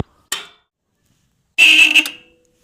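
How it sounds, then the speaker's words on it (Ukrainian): A homemade mini tractor's horn sounds twice, a brief short honk first and then a longer, louder blast, with silence between them. "Це сигнал."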